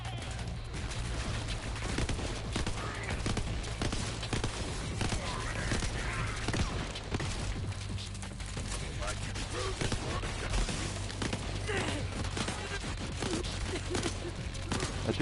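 Burst fire from Dahl weapons in Borderlands 3, repeated clusters of rapid shots crackling throughout over a steady low game hum, loud and continuous with occasional footsteps.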